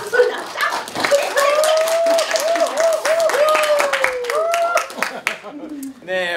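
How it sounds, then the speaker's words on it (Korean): An indoor audience claps loudly at the opening of a laughter-therapy session, with rapid continuous applause mixed with whoops and cheering voices that rise and fall. "박수 소리 나왔다."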